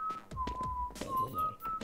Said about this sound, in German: Bitte nicht pfeifen, wir sind in der Aufnahme.